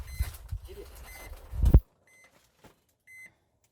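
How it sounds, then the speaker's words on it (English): A smoker's temperature alarm sounding after the temperature drops while brisket cooks on the grill, brief faint electronic beeps in near silence after a burst of handling noise. "That's the alarm let us know that our temperature has dropped."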